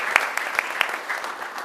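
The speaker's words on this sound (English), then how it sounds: "We can give him a round of applause." A round of applause at a commission meeting, a short burst of clapping from a small indoor audience with a few sharp individual claps standing out, fading over under two seconds.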